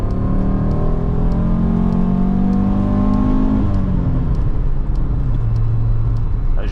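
A naturally aspirated Audi Coupé GT 2.2E five-cylinder with a stainless exhaust line revs hard and close, its tone climbing steadily before dropping back and settling to a lower, rougher idle-like note.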